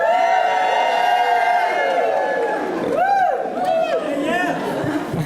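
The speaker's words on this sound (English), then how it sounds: "everybody like yell, scream, do fun things" An awards-event crowd yells, cheers and screams together for a group selfie, a loud, sustained roar of many voices with whoops rising and falling over about five seconds.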